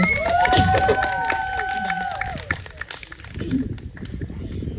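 Audience applause at a poetry performance round, scattered clapping mixed with a tonal whoop or cheer early on, fading briefly before a second burst of claps near the end.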